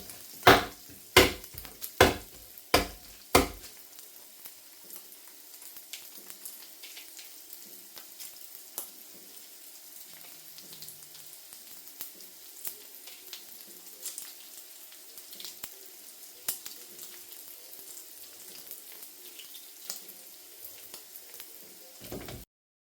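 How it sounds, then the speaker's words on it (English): Bacon sizzles faintly but steadily in a pan, a soft crackle running underneath after a burst of several sharp, loud knocks at the start. "Just going to stir this bacon because it's definitely finished."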